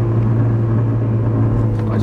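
A LuAZ car's engine runs with a loud, steady, throbbing low drone much like a motorboat, heard close up and continuous throughout.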